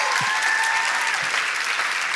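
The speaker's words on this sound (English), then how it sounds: "a round of applause" An audience claps steadily through a live stage event, a dense continuous applause at even loudness with no talk over it.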